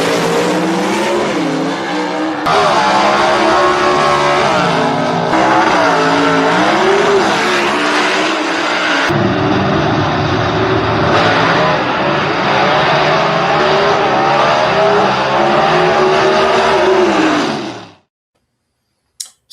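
Gasser drag race cars at a Rumble in Ringgold race roar loudly and continuously, engines revving and shifting in waves for about eighteen seconds before cutting off abruptly.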